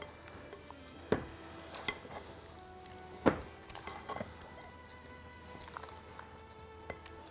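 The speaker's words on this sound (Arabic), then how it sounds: "نقلبهم علشان نوزع الدريسنج ونخلط كل أنواع الفواكه مع بعض." Fruit salad being stirred with dressing in a bowl, giving soft, wet clicks and slides with a few sharper knocks, fairly quiet and alone.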